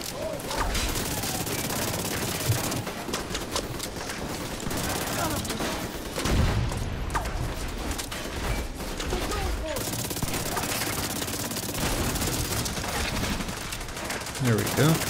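Gunfire in The Division 2 during a battle at an invaded Capitol Building, with dense, continuous automatic bursts and sharp shots layered over each other. Loud booms and impacts break through, and a voice talks under the shooting.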